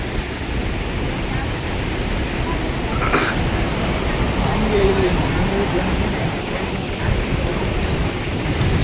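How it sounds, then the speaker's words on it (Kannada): Water released through the open gates of the Tungabhadra Dam rushes loudly and continuously, a steady roaring wash with no breaks. "ತುಂಗಭದ್ರಾ ಡ್ಯಾಮಿಂದ ರಿಲೀಸ್ ಆಗದಂಥ ನೀರು ಬರ್ತಾ ಇದೆ ನೋಡಿ ಇಲ್ಲಿಗೆ"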